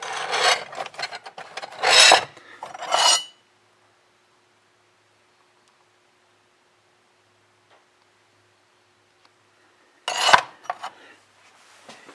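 A rasp or file scrapes across wood in quick, close back-and-forth strokes for about three seconds, followed by a long silence and then another short burst of rough filing.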